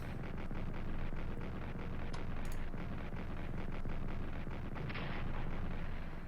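Distant artillery fire in a World War I strategy game, Strategic Command: World War I, with repeated muffled booms and crackling bursts over a constant low rumble of battle.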